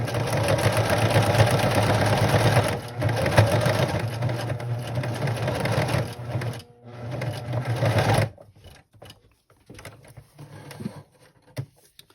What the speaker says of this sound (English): So I'm sewing almost off the edge to where that flat piece is